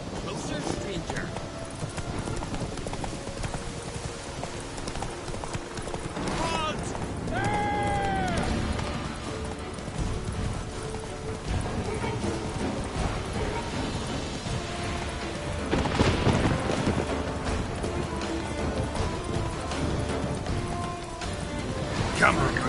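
Hoofbeats of the horse Roach galloping in a video game, a steady clip-clop running throughout at moderate loudness, mixed with game sounds and a voice talking over it.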